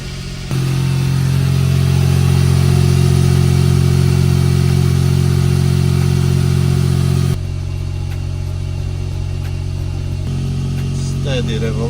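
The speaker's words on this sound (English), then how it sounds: "Let's try to start the car." A Smart car engine cranks and catches after electrical and ground upgrades, then runs at a steady, loud idle up close, its tone dropping slightly partway through as revolutions settle.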